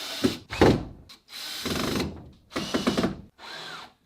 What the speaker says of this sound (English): I might need to drill all of these a tiny bit bigger just so the dowels are able to go in